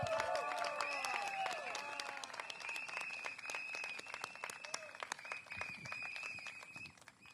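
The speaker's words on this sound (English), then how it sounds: "A round of applause to her," Audience applause at a political rally in Tampines, Singapore: a crowd of scattered claps mixed with high-pitched tones and cheering, steady at first, thinning toward the end, heard at a distance.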